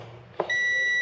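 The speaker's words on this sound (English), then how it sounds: "we should have some beeping going on over here." An electronic unit on a Dixon riding mower fitted with a Cub Cadet engine lets out a sudden steady high-pitched beep after a brief click, sustained and fairly clear.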